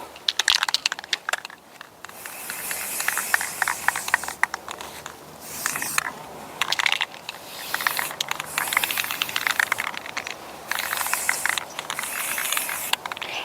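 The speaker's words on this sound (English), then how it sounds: "I think I'm just gonna finish both containers with this spray paint." Aerosol spray paint hissing onto outdoor garden containers in repeated bursts of several seconds each, separated by short pauses, fairly close and steady with no talking.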